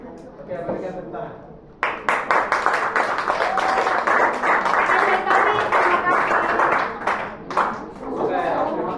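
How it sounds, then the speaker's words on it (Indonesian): A classroom applauds after a student presentation in a coding and artificial intelligence lesson, several seconds of sustained, fairly loud group clapping with voices mixed in. "berikan tepuk tangan."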